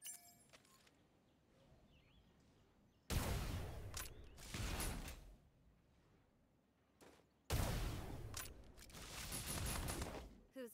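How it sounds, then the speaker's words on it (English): Gunfire in the battle royale mecha game Super Mecha Champions: two loud bursts of rapid shots, each followed by a stretch of sustained firing and mechanical clatter, with quiet gaps between the volleys. "Shots heard."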